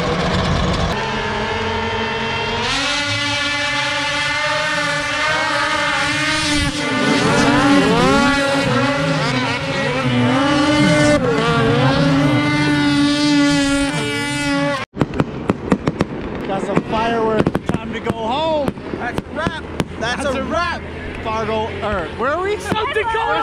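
Racing cars roar through a pro final on Saturday night, loud continuous engine drone with rising and falling revs as cars pass, later broken into sharper bursts and pops, with voices and crowd noise mixed in.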